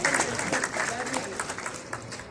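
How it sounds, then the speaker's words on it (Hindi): An audience at a cultural awards event claps in a brief burst of applause, the clapping mixed with crowd murmur for a couple of seconds. "आप ताली बजा सकते हैं।"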